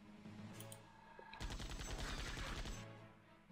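A rapid burst of gunfire rattles out for about a second and a half over a steady background of game music and ambience.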